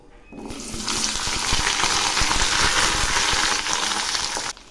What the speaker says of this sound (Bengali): এবার আমি এর মধ্যে দিচ্ছি আলু আর কচুগুলো।